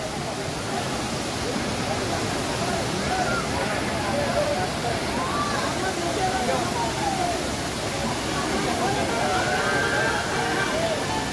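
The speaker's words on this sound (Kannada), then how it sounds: "ನೋಡ್ಬೋದು ಅಲ್ಲಿ ಒಂದು ಫಾಲ್ಸ್ ಇದೆ" Steady broadband rush of a waterfall near Sakleshpur, a constant wash of falling water that holds evenly loud throughout with no clear breaks.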